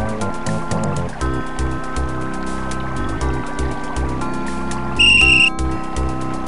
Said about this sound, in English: It's a magic whistle.